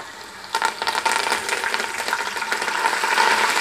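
Garlic and curry leaves hit hot oil with a sudden burst of sizzling crackle about half a second in. The frying then settles into a steady, close hiss with a few stirring scrapes, and there is no talk.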